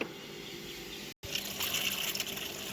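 Water runs steadily from a farm well pump, a continuous gushing flow that cuts out for a split second and then resumes slightly louder, with no talking.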